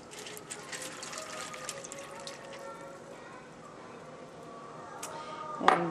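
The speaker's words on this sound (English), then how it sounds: "I line my pan with foil, and you pour the water in." Two cups of water poured into a foil-lined pan in a home kitchen while cooking spaghetti squash, a steady watery splashing and trickling stream up close, ending with a brief louder clatter.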